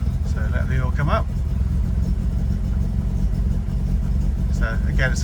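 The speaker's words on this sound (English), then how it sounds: "a very nice, smooth power delivery and a nice sounding engine." A Lotus Cortina engine runs at a steady, close rumbling idle throughout, with a couple of brief revving swells near the start and end.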